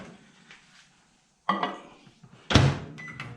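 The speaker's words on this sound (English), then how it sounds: "So I'm going ahead and place our plastisol in the microwave." A microwave oven door clacks open and shut in a quiet room as plastisol for soft plastic fishing lures goes inside, two sharp bangs with a clatter against near silence.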